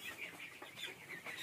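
Broiler chickens on a poultry farm clucking and murmuring together, a faint, continuous overlapping chatter from a flock at a distance.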